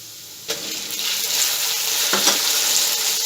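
Raw chicken dropped into a hot pan for chicken fried rice sets off a sudden loud sizzle, which settles into a steady, bright frying hiss with a few clinks from stirring.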